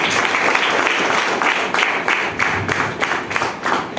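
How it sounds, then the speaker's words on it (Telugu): A seated audience at a business plan meeting applauds, a dense, loud, continuous patter of many hands clapping close by throughout. "గ్రేట్ క్లాప్ చేయండి."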